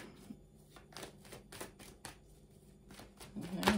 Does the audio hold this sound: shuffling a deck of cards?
yes